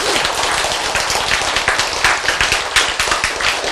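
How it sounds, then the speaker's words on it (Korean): An audience bursts into dense, loud applause, a continuous wash of overlapping claps that keeps going without a pause for several seconds. "박수!"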